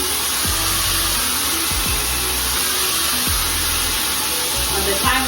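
A hair dryer blows steadily on fine wavy hair during styling, a loud close continuous whoosh with small shifts as the dryer moves, with no speech heard.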